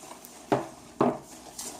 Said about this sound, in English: So now we're going to put in our melted butter and just give it a little whisk.